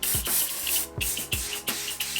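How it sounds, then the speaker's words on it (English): Short hissing sprays of disinfectant repeat in quick bursts, a few puffs close to the listener with brief gaps between them. "Spray some of the disinfectant spray on it."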